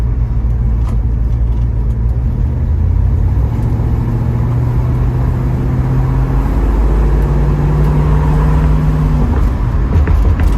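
A 1972 Ford Mustang Mach 1 cruises on the highway, its loud, steady engine drone and low rumble filling the cabin, with subtle pitch shifts as it holds speed and a constant road roar beneath.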